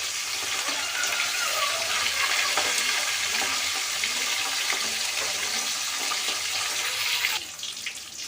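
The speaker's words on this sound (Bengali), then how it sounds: "আমার মাছটা এক সাইড ভাজা হয়ে গেছে। মাছটাকে উল্টে দিচ্ছি।" Bhooth Chanda fish sizzling in hot oil in a pan, a loud continuous crackling hiss that drops off abruptly near the end.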